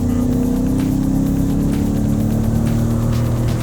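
A 2017 Ford Raptor truck's engine, no longer a V8 and somewhat muted, drones steadily and loud throughout, with a low constant hum and slight rising tone as it accelerates; no voices.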